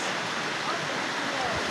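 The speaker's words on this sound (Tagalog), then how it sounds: "Yan po yung ilog dito po sa Kaibiran to guys." River water rushing near a hot spring in Caibiran, Biliran, a steady broadband wash of flowing water, loud and close, with no break.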